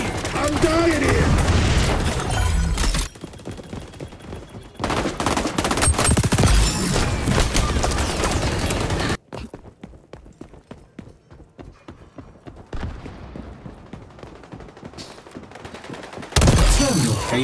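Grenade blasts and gunfire in the shooter XDefiant, loud bursts of rapid shots broken by sudden drops, with booming impacts and short quieter stretches between the heavy volleys.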